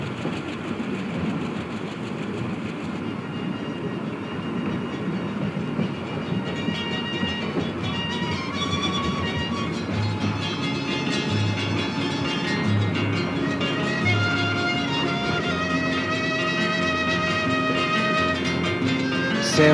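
A train runs along a mountain railway line in Peru near Casapalca. A steady, continuous rumble of wagons and rails carries on throughout, with tonal squeals and screeches from the wheels rising over it in the later part.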